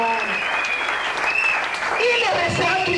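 A church congregation applauds and cheers for the Lord, a dense, continuous clatter of clapping with a voice speaking loudly over it.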